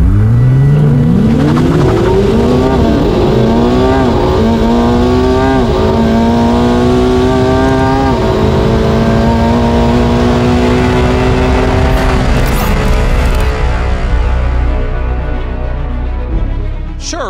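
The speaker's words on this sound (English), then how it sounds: "It's the way the 296 accelerates." A Ferrari 296 sports car accelerates hard through several gears. Its engine pitch climbs and drops back at each shift, loud and close, then fades away near the end.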